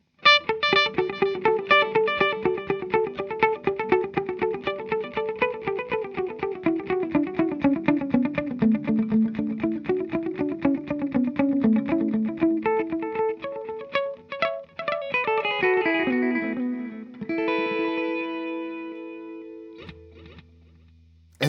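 An electric guitar played through a Fender delay pedal set to dotted-eighth repeats, each note echoing in rhythmic cascading trails with a chorus-like shimmer, a continuous melodic line that winds down and ends with a final low note.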